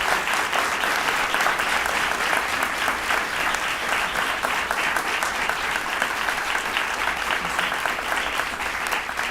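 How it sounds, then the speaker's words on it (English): Applause rises from a large audience at a NASA all-hands event honoring astronaut Scott Kelly, dense and sustained clapping that continues evenly throughout. "So keep clapping in the spirit of this all hands."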